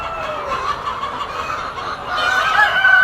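Hens cluck steadily in a poultry coop where birds are laying eggs in nest boxes, a close, continuous chorus of overlapping clucks that grows slightly louder toward the end, with no talking.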